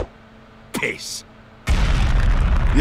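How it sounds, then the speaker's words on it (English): A short pop, then a sudden loud cartoon explosion boom that swells into a sustained, rumbling roar filling the rest of the moment. "Explosion!"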